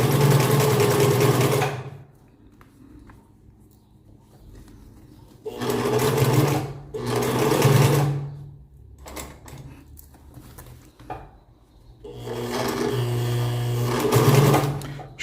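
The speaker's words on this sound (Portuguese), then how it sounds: "E aí a gente continua costurando." A domestic sewing machine stitches the waistband of a pair of jeans, running in three long loud whirring bursts separated by quiet pauses with faint handling noises of fabric.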